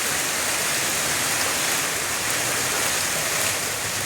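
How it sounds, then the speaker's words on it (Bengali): Heavy rain falls steadily on potted garden plants, a dense, even, close hiss that continues without break and without voices. "তবে গাছগুলোর জন্য খুব ভালো এই বৃষ্টিটা"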